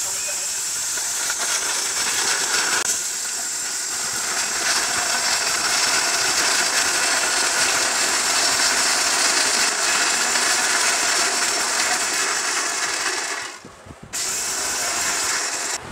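An Orpat high power electric blender whirs continuously at a loud, steady pitch, with a brief dip near the end before it resumes.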